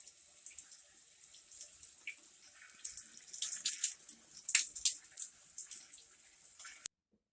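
Shower water runs steadily while gemstone jewelry is rinsed, a bright hissing spray with scattered splashes and spatters that grows busier midway, then stops abruptly near the end. No voices.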